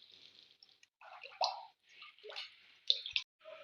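Coconut oil pours into a heated pan with quiet, uneven drips and gurgles in short bursts, close by and with no talk.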